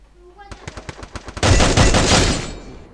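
Gunfire in a multiplayer shooter video game: a quick string of separate sharp shots, then a loud sustained burst of rapid automatic fire that fades out, close and dominant.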